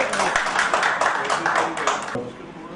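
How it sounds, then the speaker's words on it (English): Audience at an academic knowledge-exchange session applauding the speakers of the last session, a dense burst of clapping with voices mixed in, fairly close, fading out near the end. "Maybe have a round of applause for our speakers of the last session in the chair"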